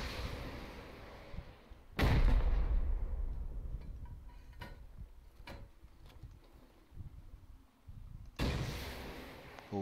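Rockets launch in an online shooter game, two heavy booming blasts several seconds apart, each with a long rumbling tail and a few faint thuds between them.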